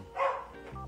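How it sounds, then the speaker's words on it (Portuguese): A dog gives a single short bark at moderate distance in a home at night, followed by a softer tail of sound, with no one talking. "os cachorros começam a latir"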